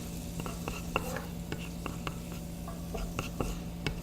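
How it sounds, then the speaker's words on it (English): Soft steady sizzle of garlic frying in a pan, with light scattered ticks and stirring clicks throughout. "just a sizzle"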